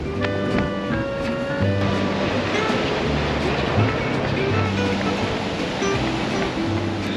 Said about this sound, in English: I can hear the waves crashing